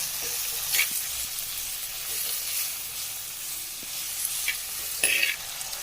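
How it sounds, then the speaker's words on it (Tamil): Tomato, onion and curry leaves sauté in a village clay pot for dry fish curry, giving a steady sizzle with scraping stirs and a few louder clatters of the spoon, no voices. "அதோட தக்காளி சேர்த்துக்கலாம். இது நல்லா வதங்கட்டும்."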